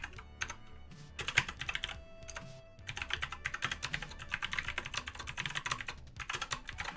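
A cat walks across a computer keyboard and mouse, producing dense irregular clusters of key clicks and taps, fairly close and continuous over several seconds with brief pauses.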